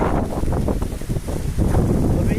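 Strong wind gusts buffet the microphone outdoors in a village, a loud continuous rushing roar with low rumble that swells and dips, steady throughout.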